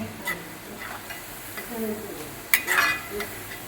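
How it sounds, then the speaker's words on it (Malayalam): Breadfruit 65 pieces frying in hot oil give a soft, steady sizzle, with a few brief metallic clinks and scrapes as a ladle lifts them out. "നമ്മുടെ കടത്തക്ക സിക്സ്റ്റി ഫൈവ് ഫ്രൈ ആയി വരുന്നു ഇപ്പൊ കോരി എടുക്കുവാണ്"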